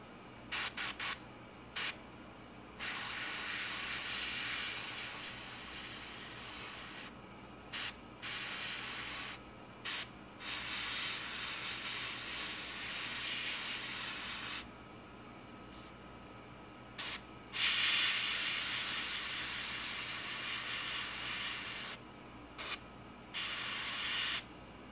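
An airbrush spraying Tamiya XF4 yellow-green acrylic paint onto a 1/48 Tamiya F-4B Phantom model gives a steady close hiss in long bursts, broken by brief silent pauses between passes.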